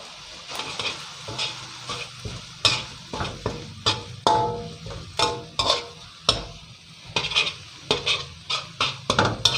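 Chopped shrimp, glass noodles and plenty of holy basil are stir-fried over high heat in a pan, with repeated rhythmic scraping strokes of a utensil against the metal over a steady sizzle, close and loud.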